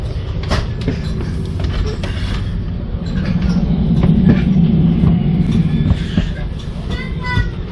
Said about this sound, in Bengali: এটা হচ্ছে এই ট্রেনের রেস্টুরেন্ট রেস্টুরেন্টের বগি কম্পার্টমেন্ট কোচ